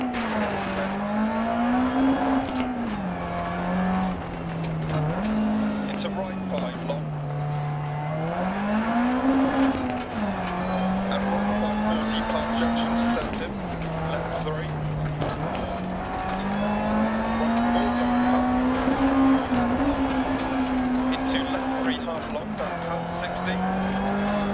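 A rally car in the DiRT Rally racing game revs and drifts continuously, its engine note rising and falling through gear changes with tire noise, loud and close throughout, while someone talks over it.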